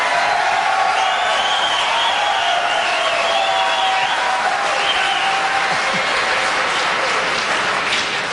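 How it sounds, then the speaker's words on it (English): Debate audience in South Carolina breaking into loud, sustained applause with cheering and whoops, a dense steady roar of clapping lasting throughout. "I never thought heroin would get applause here in South Carolina."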